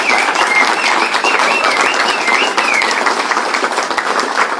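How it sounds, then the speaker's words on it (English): Audience applauds steadily at a political speech, a dense and loud wash of clapping with occasional cheers rising above it, sustained throughout without a break. "give her a round of applause."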